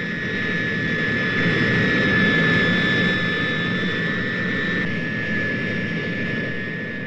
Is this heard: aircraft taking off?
yes